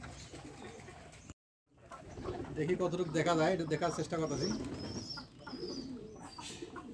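Low pigeon coos murmur in the background from pigeons sitting on eggs in bamboo nest boxes, while a person talks nearby, with a brief pause in the middle.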